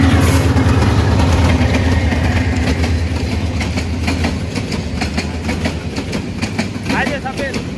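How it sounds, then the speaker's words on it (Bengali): A train passes close by, its loud continuous rumble and rhythmic clickety-clack of wheels over rail joints filling the whole stretch, with a faint high squeal near the end. "এই যে দেখুন ট্রেন চলে।"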